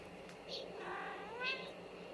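A soft, close meow rises and falls, followed by a second longer, drawn-out meow a moment later, with faint room noise behind.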